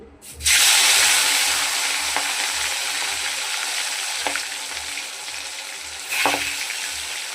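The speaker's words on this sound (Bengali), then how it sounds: "এবার আমি মাছগুলোকে একে একে ছেড়ে দিচ্ছি।" Pieces of rohu fish are slid one by one into hot oil in a wok, raising a loud, continuous sizzle and spatter, with a few sharper bursts as more fish goes in.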